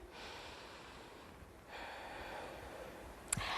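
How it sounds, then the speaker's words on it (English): During a kids' yoga session, a soft, drawn-out deep breath is taken in over a second or two against a quiet background, with a brief faint click near the end. "Take a deep breath in."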